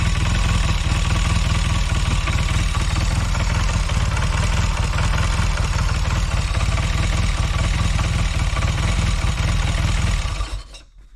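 Velocette motorcycle engine with a fuel-leaking carburetor running close by, a loud, steady chuffing beat with mechanical clatter, holding even until it dies away in the last second.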